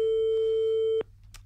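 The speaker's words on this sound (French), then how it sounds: "Allez, Ludovic, prends ton téléphone." A steady telephone line tone holds for about one second, then cuts off abruptly, leaving quiet room hiss and a faint later rustle.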